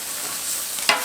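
Marinated flank steak searing in a hot pan gives a soft, even sizzle, fairly quiet and close. Near the end comes a single brief sharp crackle or scrape, and nobody talks.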